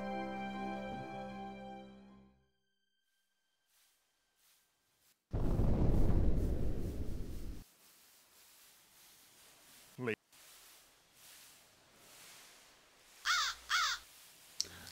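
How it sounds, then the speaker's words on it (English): A crow caws in the King's Quest VI adventure game, harsh calls sounding after a burst of loud rumbling, with scattered game sound effects and quiet gaps between. "That was a genius spying on us in the form of a crow."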